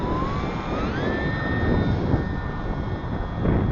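An E-flite UMX Beast V2 micro RC plane flies in windy weather, its high electric motor whine climbing in pitch and then holding steady over a constant broadband wind rush, with no talking.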